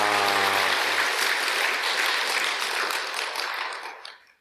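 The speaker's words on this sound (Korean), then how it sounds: "박수 한번 주세요" An audience at a Sunday Buddhist service applauds in a dense burst of clapping that starts at full strength and fades away near the end, after a brief voice at the start.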